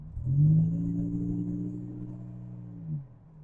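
A Buick Grand National engine, not yet broken in, revs short of full throttle and holds a steady, throaty drone for a few seconds, then eases off near the end, close by with no talking.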